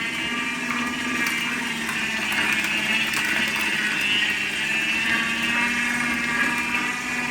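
An Optimum 600M cold press juicer grinds nuts into nut butter, giving a steady motorized whirring drone with a gritty churning texture that runs unbroken and fairly loud.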